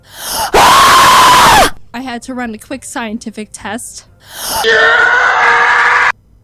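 A person screams into a microphone while reacting to a video game: two loud, harsh, distorted bursts, each about a second long, with a stretch of that person's talking between them.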